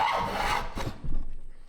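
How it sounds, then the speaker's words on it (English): A hand plane shaves along a wooden table edge in a couple of quick, close rasping passes, the last one trailing off. "I'll quickly take a few more passes and then we can get to the actual drilling."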